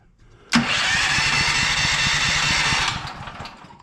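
A propane-fueled home generator engine from Costco starting: a short starter crank, then it catches and runs at a loud, steady mid-pitched throb before dropping off near the end.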